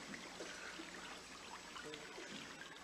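A creek flowing steadily, a soft, continuous trickle and babble of water heard alone at low level with no talking.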